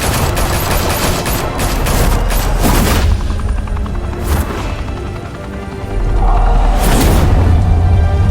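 Heavy gunfire in the Batman Telltale video game, a dense fusillade of automatic shots with booming impacts that runs continuously, briefly eases, then surges loud again.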